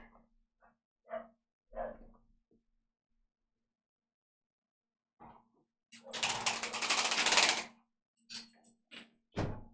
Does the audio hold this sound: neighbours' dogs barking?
yes